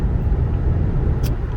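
Constant road roar and low engine hum from inside a 2006 Lexus LS430 cruising on an interstate freeway, steady and fairly loud with a brief hiss near the end.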